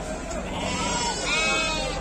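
Sheep bleating at Glenmore livestock market, where Merino, Texel and Dormas crossbreeds are sold, with a steady murmur of people talking and crowd noise around.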